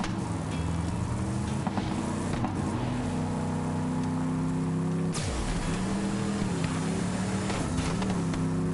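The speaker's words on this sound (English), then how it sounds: "like driving for example, the vehicle just sounds better." A vehicle driving in the video game Borderlands 3, a steady engine drone with a low rumble and shifting tone, a brief dip and surge near the middle, continuous and fairly loud with no talking.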